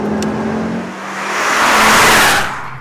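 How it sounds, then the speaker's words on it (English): Ford Focus RS engine accelerating hard, a loud rising roar that swells to a peak near the end and then eases slightly, with no voices over it. "once you're on the move, acceleration is just staggering. Just listen to that engine."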